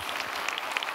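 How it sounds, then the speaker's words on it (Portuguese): Applause from a comedy show audience, a steady wash of clapping with a few sharper claps standing out, fairly close. "é umas palmas para as mulheres"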